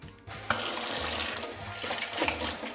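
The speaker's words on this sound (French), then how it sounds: "Donc ça, je le rince." Tap water runs steadily into a sink as a juicer part is rinsed under it, a close splashing hiss with small shifts as the part moves through the stream.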